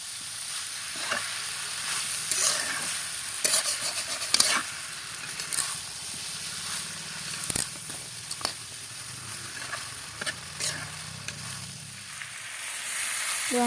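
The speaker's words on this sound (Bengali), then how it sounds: "ভালোভাবে আমি নাড়াচাড়া করব, কারণ কাঁঠাল আর আলুতে যাতে মশলাটা ভালোভাবে মিশে যায় ঠিকভাবে।" Chunks of jackfruit and potatoes with spices are stirred in a frying pan, a continuous sizzle broken by irregular scraping and knocking of the spoon against the pan.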